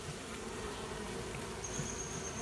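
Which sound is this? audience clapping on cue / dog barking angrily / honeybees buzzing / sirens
honeybees buzzing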